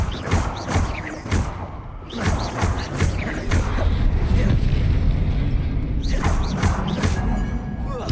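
Confringo and Bombarda spell explosions in the wizarding game Hogwarts Legacy, a run of loud booming blasts and crashing bursts hitting in quick succession amid a dense rumbling battle.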